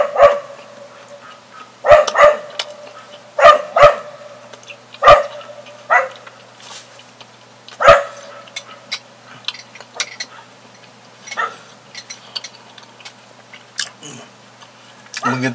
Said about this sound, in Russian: Это ненавистная собака уже надоела.